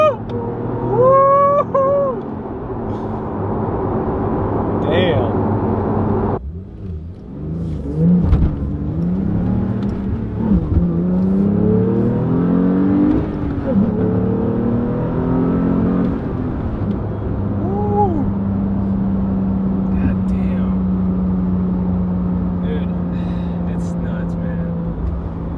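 Manual-transmission Porsche 911 Carrera T engine revving and pulling through gears from inside the cabin, loud and steady with rising and falling pitch sweeps, a brief lift around the midpoint, then a sustained drone.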